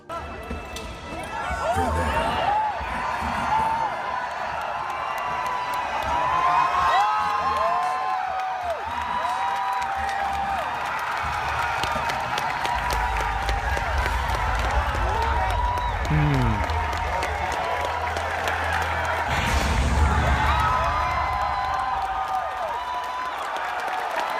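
Crowd cheering and applauding at a game reveal event, a steady roar of clapping and voices lasting throughout, with a person talking over it.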